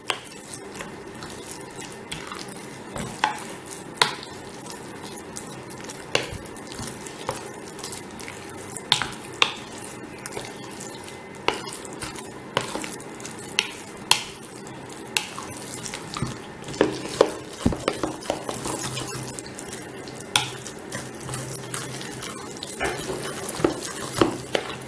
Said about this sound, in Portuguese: Vamos mexer só com corante para ver como vai ficar.